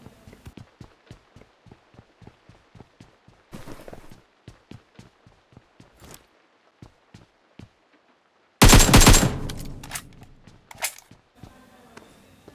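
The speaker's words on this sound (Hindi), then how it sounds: "तो गाइस मैंने यहाँ पे फायरिंग की ताकि बंदे आएँ" Gunfire in PUBG Mobile on the Erangel map: a long series of single shots, some close and some farther off, then a loud, dense burst of automatic fire near the end.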